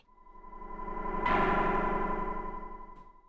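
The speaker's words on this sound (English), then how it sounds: "I'm gonna try the bell on the other guy." A bell rings once inside Link: The Faces of Evil on the Philips CD-i, a bright metallic ding that swells, then rings out and fades slowly with a steady hum behind it, and nobody talks.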